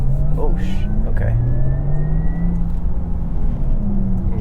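A 2021 Porsche Taycan electric car in sport mode driving at speed, its synthetic motor tone gliding up and down steadily under road noise while occupants talk briefly over it.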